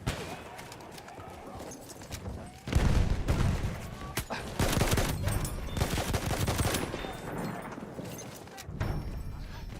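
Pistol gunfire in a first-person shooter video game: a burst of sharp shots comes in quick succession, mixed with other game sound effects and busy background action.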